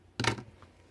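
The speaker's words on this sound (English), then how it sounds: "We're going to cut our yarn." Scissors snip through crochet yarn once, a single soft close cut with no talking.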